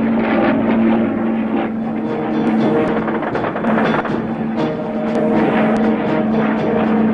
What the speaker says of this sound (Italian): Aerei tedeschi fanno da battistrada alle unità avanzate.